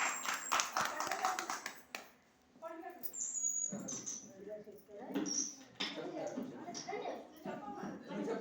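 Children clapping at a Christmas gathering led by a preacher, a burst of applause at the start giving way to speech, with scattered claps and voices throughout.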